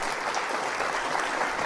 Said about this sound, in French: Non, on applaudit le cavalier bloqueur là.